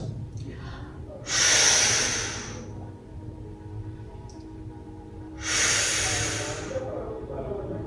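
Deep breathing during a stretching workout: two long, loud, hissy breaths, close to the mic, several seconds apart, over a low steady background.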